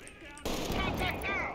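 Video game gunfire, a sudden burst of rapid automatic shots that starts after a brief quiet and keeps rattling loud and close, with shouted voices over it.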